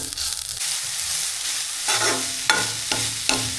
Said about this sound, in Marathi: आपण गूळ आणि खोबरं हे चांगलं परतून घेऊन